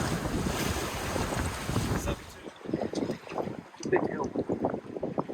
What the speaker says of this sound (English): Getting a few gusts now.